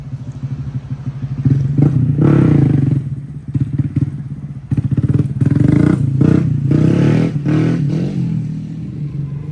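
Motorcycle engine revving and surging repeatedly as a rider practices wheelies at a bike week event, loud and close, with throttle bursts rising and falling and some clattering thumps between pulls.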